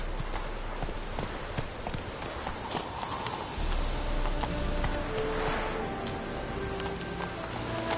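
Horse hooves clip-clop at a steady trot in The Witcher 3: Wild Hunt on PS4, a rhythmic run of hoofbeats that continues throughout, with rain-like ambience and faint game sounds underneath.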